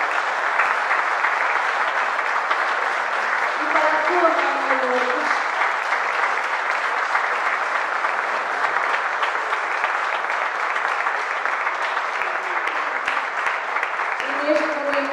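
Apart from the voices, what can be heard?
audience applause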